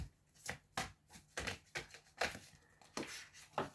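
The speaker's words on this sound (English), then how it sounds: "So hard to shuffle these. They're really long." Long tarot cards being shuffled in a series of quick, crisp riffling bursts, close up and fairly quiet, with no voices.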